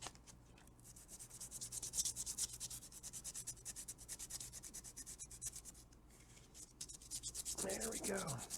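A small plastic model kit part being sanded by hand, a steady rasping rub repeated in quick even strokes, quiet and close, with a brief higher squeak near the end.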